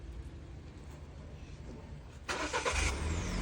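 A car engine started by remote start cranks and catches after a quiet stretch, then settles into a steady idle close by, with no one speaking.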